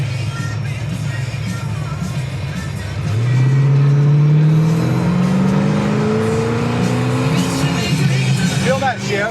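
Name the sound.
1969 Chevrolet Chevelle SS accelerating and shifting gears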